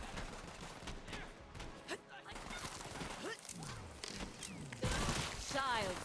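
Turrets in the Borderlands 3 video game fire dense bursts of gunfire, with crashes and thuds layered into busy battle noise, while people talk over it.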